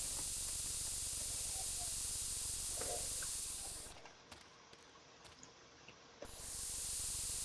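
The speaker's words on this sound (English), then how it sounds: "what happens if you use this spray paint on someone?" Loud continuous spray paint hiss in a Roblox game, steady for several seconds, then cutting out into near silence with a few faint clicks before the hiss resumes.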